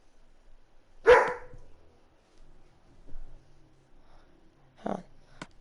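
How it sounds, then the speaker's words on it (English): A dog barks in a home, one sharp bark near the start and another several seconds later, with quiet household sounds between. "Stop barking"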